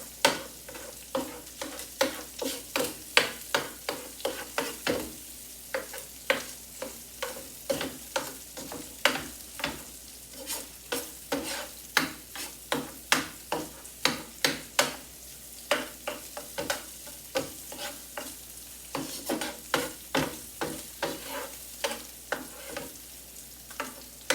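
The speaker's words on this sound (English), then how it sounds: "Throw them in because I want them to get a little sauteed in here." Spam and vegetables sauté in a pan, with a busy run of sizzling and repeated scraping, stirring strokes over close, steady frying noise.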